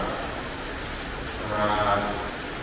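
Steady rain falls at a Thai temple in Roi Et during a Buddhist Lent candle offering trip, a continuous even hiss that swells slightly midway, with no voices.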